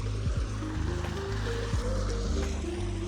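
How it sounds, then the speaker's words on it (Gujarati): Water gushes hard out of a tank being emptied, a loud, steady rushing roar close by with a low droning hum running underneath throughout. "પાણી તો એકદમ જોરદાર કાઢે છે લાઈન"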